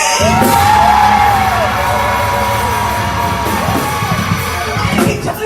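Church congregation screaming and cheering during a worship service, a loud sustained roar of yells and whoops from a crowd, with shouts rising and falling throughout.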